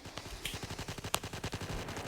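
Rapid gunfire from the Roblox Trench War video game, a dense stream of shots with one sharper crack standing out, steady and fairly loud throughout.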